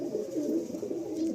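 Tikki golden eyes pigeons coo in low, rolling, continuous murmurs, close and moderately loud with no talk over them.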